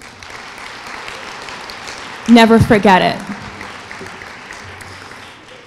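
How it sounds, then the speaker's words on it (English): Graduates at a university lecture event give themselves a round of applause, a steady wash of many hands clapping throughout, with a voice speaking loudly over it briefly in the middle. "Give yourselves a round of applause."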